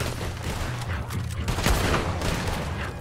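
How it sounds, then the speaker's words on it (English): Rifle and revolver fire rings out in a Red Dead Redemption 2 gunfight, a steady barrage of overlapping shots with one sharper crack near the middle. "we've got the rifle and the revolver."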